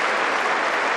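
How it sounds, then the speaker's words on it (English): Wimbledon tennis crowd applauding at the end of a match, a dense, steady wash of clapping from many hands with no pauses and no talk over it. "Big applause for Coco Gough, who gave it her all"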